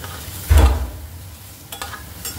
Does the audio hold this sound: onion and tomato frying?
yes